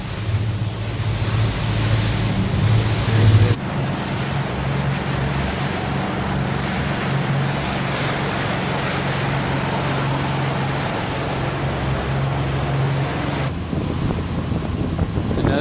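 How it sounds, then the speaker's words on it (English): Big ocean waves crash and roll continuously in the Gulf of Mexico, a loud, broad surf roar with wind buffeting the microphone and a low boat hum in places. "Big waves crashing on that sucker there."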